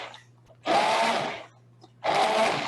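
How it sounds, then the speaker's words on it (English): A kitchen blender whirs loudly in two bursts, each lasting under a second, with a quiet pause and a faint low hum between them. "make sure that your blender has stopped blending before you pull it out of this"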